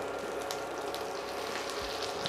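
A fish fillet laid skin-side down in foamy butter fries with a soft, continuous sizzle and bubbling, heard close and steady with a small thump near the end.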